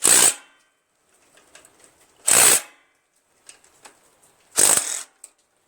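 Tightening the valve cover bolts on a Briggs 17.5HP lawn tractor engine: three short, loud bursts of ratcheting tool noise spaced about two seconds apart, with faint clicks and handling sounds between them.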